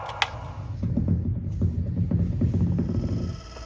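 A wood lathe turns a segmented bowl made from scrap wood and pallets at about 1100 RPM, giving a steady low throbbing hum after a brief click.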